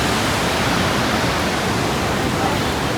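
Great Falls waterfall in New Jersey, a steady full roar of falling water filling the whole range, loud and unbroken throughout with no voices.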